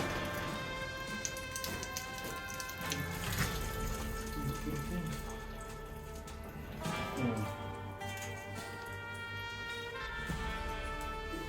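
Water from a rabbit hutch's nipple drinking line is drained out during cleaning, a steady splashing flow that runs continuously at close range with broad noisy texture and no voices.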